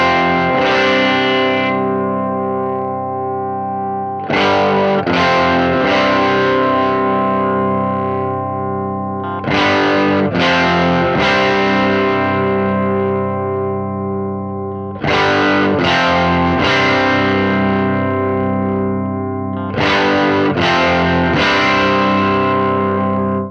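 Distorted electric guitar through a Marshall Origin 20C amp as its bass control is turned up from zero: four loud strummed chords, each left ringing for several seconds, with no talking.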